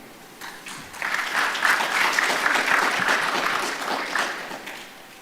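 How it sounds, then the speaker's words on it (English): Audience applause at a national research festival in Kenya, starting quietly, then swelling into steady, moderately loud clapping that fades slightly toward the end. "Please give him another round of applause."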